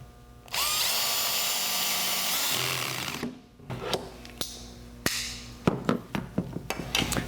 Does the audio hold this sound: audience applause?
no